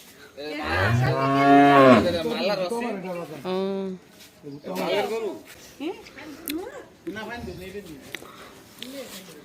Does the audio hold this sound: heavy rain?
no